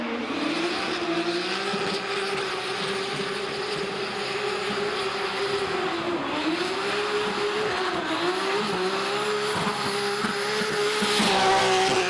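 A drift car at a D1NZ pro championship qualifying round in Tauranga runs the course with a loud, continuous engine roar, its pitch rising and falling through the corners while tires squeal and skid throughout, close and steady.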